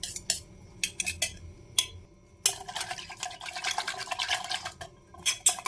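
A spoon clinks and scrapes in a bowl, mixing yogurt with salt, turmeric, chaat masala and chillies, in quick irregular taps and stirring bursts, close and fairly clear with short pauses between strokes.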